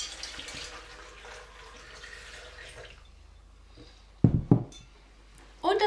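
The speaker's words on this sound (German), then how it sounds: "Das Ganze gießen wir dann mit schönem, leckerem Wasser auf" Fresh spring water is poured into a blender jar for a drink, a faint trickle giving way to a couple of sharp knocks and splashy bursts near the end, close and quiet.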